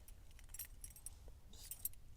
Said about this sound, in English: you're rocking your keys on a leather strap